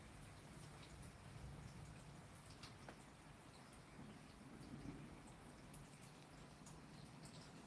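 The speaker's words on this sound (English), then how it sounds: "it's still thundering a little bit" Low rumbling thunder rolls through a steady rainstorm, with broadband rain hiss throughout and faint distant booms swelling and fading, fairly quiet overall.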